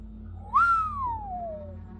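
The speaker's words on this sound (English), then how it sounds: "I whistled." A person whistles once: a single short rising-then-falling whistle lasting just over a second, clear and close against a low background hum.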